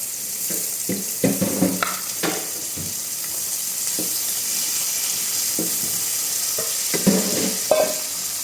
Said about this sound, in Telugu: ప్యాన్ పెట్టుకొని కొద్దిగా ఆనియన్స్ వేసుకోవాలి. ఇవన్నీ ఫ్రై చేసి తర్వాత పెరుగు వేసుకోవాలి.